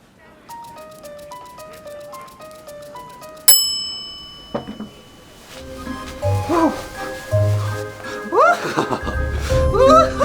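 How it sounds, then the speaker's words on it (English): A bell rings with a bright struck tone partway through a lively indoor scene, cutting through background music and chatter as people talk around it. "Bell, please!"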